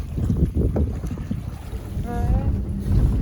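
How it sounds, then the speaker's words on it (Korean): A tour boat motors across open lake water near Huaraz, with a steady low engine rumble, wind buffeting the microphone and faint splashing close by. "지금 보트 투어 하고 있고요. 네, 보트 타고 있습니다."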